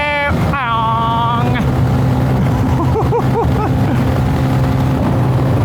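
Small-CC motorbike engine held at full throttle into a headwind, a loud steady drone with a rising whine at the start and wind buffeting throughout.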